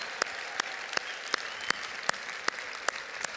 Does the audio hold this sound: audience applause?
yes